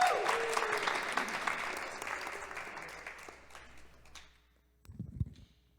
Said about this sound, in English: that was actually the first applause we heard in here all morning